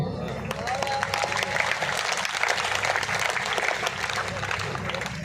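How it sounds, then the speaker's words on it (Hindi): Dense, steady audience applause at a Hindi comic poetry gathering, many hands clapping together with crowd murmur, filling the whole stretch without a break. "अब बजाना ताली"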